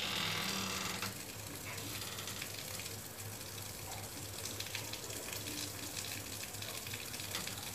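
A sewing machine stitches the pieces of a handmade Punjabi jutti shoe, giving a continuous close mechanical whir with a steady low hum and faint rhythmic rattling, with no talk over it.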